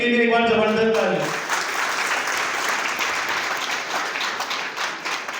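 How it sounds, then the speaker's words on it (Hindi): A crowd gives mentors a big round of applause, steady dense clapping rising just after a voice calls it out and carrying on evenly to the end. "सभी के लिए एक बार जबरदस्त ताली"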